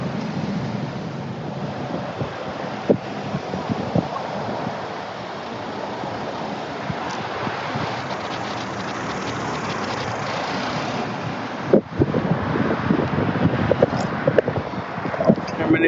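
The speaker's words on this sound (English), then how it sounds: "it's a bit windy up here" Strong wind buffeting an outdoor microphone, a constant rumbling roar with gusty thumps throughout, growing rougher toward the end, while someone speaks under it.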